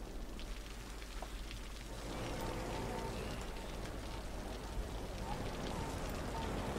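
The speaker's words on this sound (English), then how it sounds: "Is that just the rain?" Steady rain in the city-building game Cities: Skylines, a dense continuous hiss with a low rumbling bed, loud and unbroken throughout with no distinct drops standing out.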